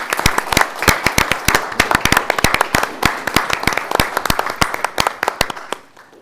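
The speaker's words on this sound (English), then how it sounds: "I simply ask one last round of applause and sign of appreciation for their dedicated time" A small group claps at a village board meeting, the sharp, distinct hand claps standing out clearly and near, then thinning and fading away at the end.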